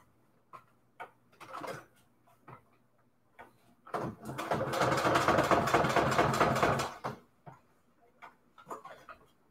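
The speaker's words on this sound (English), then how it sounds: "I'm just going to do a straight stitch. I'm just sewing around the frame here." A sewing machine runs a straight stitch around a frame on a Christmas jar embellishment: one steady, rapid run of stitching lasting about three seconds, framed by scattered light clicks and handling taps, with no talking.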